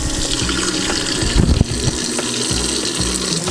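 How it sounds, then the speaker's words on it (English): Tap water running hard into a sink while washing a basket of food, a loud continuous gushing rush with a few splashy bursts midway, close up and uninterrupted by talk. "I will turn on my water."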